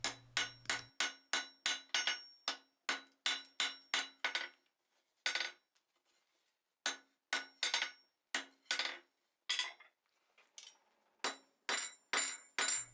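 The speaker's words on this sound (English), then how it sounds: "I'm just going to dress the forging inside the anvil" A forging is dressed on an anvil with quick runs of ringing hammer blows, close and sharp, broken by a pause of a second or two before the strikes resume in uneven bursts.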